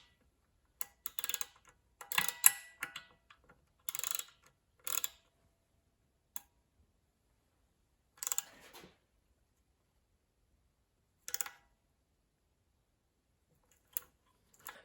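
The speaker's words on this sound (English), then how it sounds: "I'm going to grab my 1/4 inch ratchet. And I have a Allen bit right in here. And I'm going to tighten this up." A quarter-inch ratchet fitted with an Allen bit tightens the set screw on a bearing locking collar of a John Deere 47-inch snowblower, giving short bursts of dry clicking separated by pauses.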